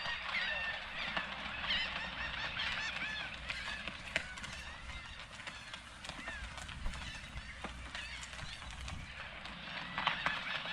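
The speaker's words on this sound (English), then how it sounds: "You can hear the birds here." Geese honk repeatedly on the open deck of a museum ship, their scattered calls fairly faint against a steady outdoor wind and background hum, with no talking.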